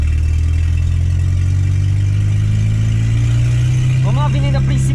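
VW Gol turbo car engine running with a steady low drone, near and loud, rising slightly near the end; a voice talks over it.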